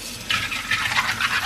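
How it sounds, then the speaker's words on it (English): Fresh clams being rinsed and swished in water, a wet sloshing and scraping that comes in repeated bursts, close and fairly loud with no talking. "Next, I'm going to wash those beautiful clams"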